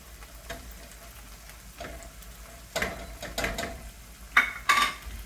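A tablespoon of butter melts in a pan beside vegetables, giving a soft, quiet sizzle broken by a few sharp clinks and scrapes of a utensil against the pan.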